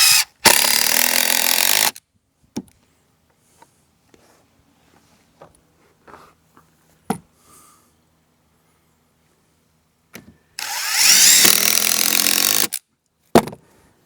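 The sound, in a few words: power drill driving screws into wooden walkway beam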